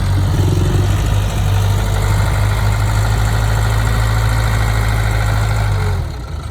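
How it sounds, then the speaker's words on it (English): Loud, steady diesel rumble from a bulldozer and a loader working dirt to build a backyard dirt bike track, a close continuous engine drone that drops away at the very end, with no voices. "So Mark's on the dozer right now, and Ian's on the loader."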